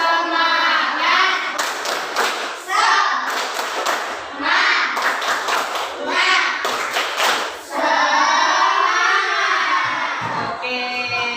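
A class of children performs a spirit clap, with several rhythmic bursts of sharp group clapping and slapping mixed with their chanting voices and a teacher's voice, all close and lively.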